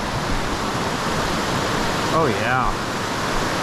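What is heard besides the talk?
Rock Creek flowing water at trail crossing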